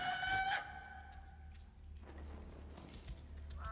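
A bird in The Lord of the Rings: Gollum video game gives a loud, tonal call near the start, and quieter chirps follow over steady ambient game sound.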